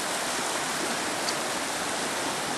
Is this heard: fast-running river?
yes